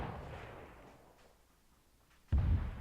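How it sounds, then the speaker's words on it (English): An M41 guided missile launcher fires rockets at a Scorpion tank in a video game: a rumbling blast fades away, then another sharp, heavy launch bursts out loud. "That's 4 rockets to the front armor of this Scorpion, and it hasn't even blinked."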